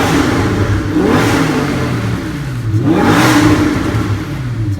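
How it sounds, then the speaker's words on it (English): A Lamborghini with a gold FI exhaust, valves closed, revs twice in close succession, each throttle blip rising and falling in pitch over a steady rumbling idle, loud and near with no talking. "That's how it sounds like in closed valves"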